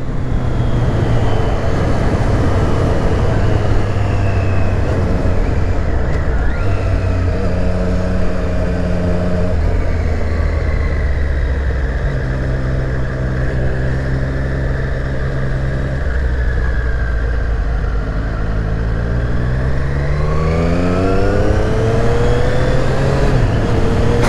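A 2020 Triumph Street Triple 765 RS three-cylinder motorcycle revs hard and climbs through quick gear changes, its loud close engine note rising and falling in repeated pulls over about twenty seconds.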